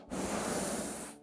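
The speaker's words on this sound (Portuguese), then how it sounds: "Solta todo o ar, todo o ar, mas não respira depois, solta." A long, forceful exhalation into a microphone as a breath is pushed all the way out during a church breathing exercise, a broad steady hiss lasting about a second with no talking.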